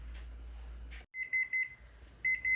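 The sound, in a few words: kitchen timer going off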